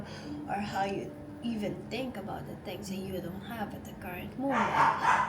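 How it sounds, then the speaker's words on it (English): A dog barks in a home, a few short yips rising at the end of a person's steady talking, the barking fairly close but partly under the voice. "I'm sorry about that, that's my dog."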